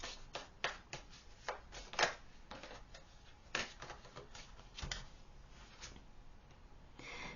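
Tarot-style cards are shuffled and drawn for a pick-a-card reading, giving soft repeated flicks and riffling taps, close and fairly quiet.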